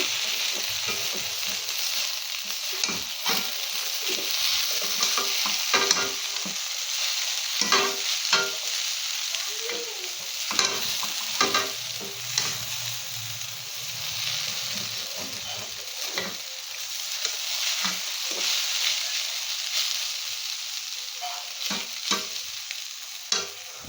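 Vermicelli sizzles in a frying pan for a sweet dish while a spoon stirs it, with continuous close crackling frying and repeated scraping stirs and clinks over about twenty-four seconds, and no voices.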